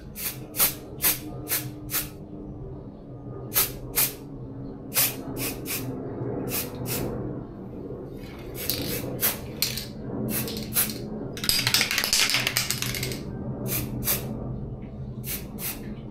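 Short bursts of 3D scanning powder coating sprayed from a can onto a small brooch object, about a dozen sharp hissing puffs, some rapid in pairs, with one longer spray near the end over a low background hum.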